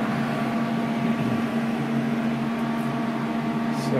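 A welding machine runs at 100 amps during an open circuit voltage test, giving a steady, loud electrical hum and drone with a constant tone and no breaks.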